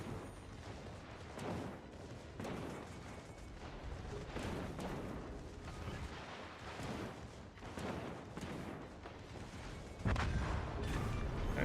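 Naval guns on warships fire at an enemy ship in World of Warships Legends, a series of heavy booming blasts recurring every second or two over a rumbling background, with a louder burst near the end.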